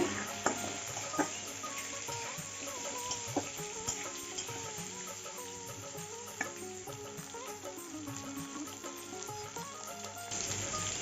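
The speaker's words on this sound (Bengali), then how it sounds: "আলু আর গাজরটা একটু ভেজে নিয়েছি এখন পটলটাকে দিয়ে দেবো কাঁকরোলটা দিয়ে দিচ্ছি একটু ভালো করে ভেজে নেব" Pointed gourd and teasel gourd fry in a pan with potato and carrot for a Bengali mixed-vegetable curry, giving a faint continuous sizzle with scattered light stirring clicks and a soft musical tone running underneath.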